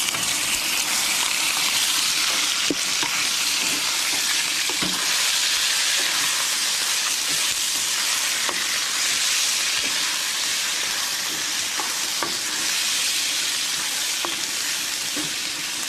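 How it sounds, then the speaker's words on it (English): Diced beef sizzles loudly in a frying pan full of hot oil, a continuous crackling hiss with occasional pops, close up and steady throughout. "The diced meat goes in to the frying pan full of oil"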